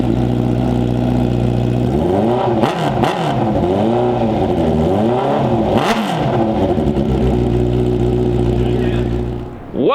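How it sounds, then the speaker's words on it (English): Honda CB650R motorcycle running straight-piped with no muffler can, a loud, steady engine drone with several sharp revs rising and falling midway before settling back to a throaty idle. "we're gonna run the bike with no can on it, straight pipe back"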